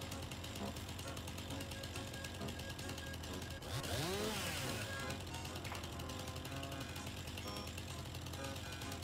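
A chainsaw drones continuously on a farm with a gritty mechanical rattle, revving up sharply partway through before settling back to a steady roar.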